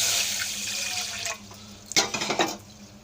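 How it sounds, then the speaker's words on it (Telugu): Moong dal is rinsed under running water with a steady faucet stream at first, then sharper splashing and sloshing bursts toward the end, close by and without speech. "ఇప్పుడు ఈ పెసరపప్పుని శుభ్రంగా వాటర్తో కడిగేసుకుందాం."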